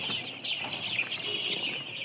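Chicks on a farm in winter chirp softly and continuously in the background, a faint, high peeping chorus with no one speaking.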